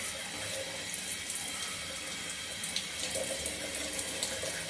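Shower water runs steadily while hair is rinsed during a microloc wash day, a constant close hiss of spray that continues alone without talking.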